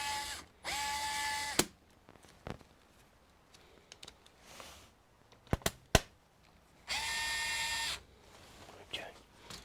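An electric screwdriver whirs in two bursts as it removes screws from an HP ProBook 450 G5 laptop under repair for a no-power fault, with clicks and clatters of parts between them and brief talking.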